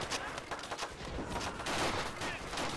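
Machine gun nest firing in a World War II Pacific beach assault in the Rising Sun video game mod, a dense, continuous clatter of gunfire and overlapping shots running loud throughout.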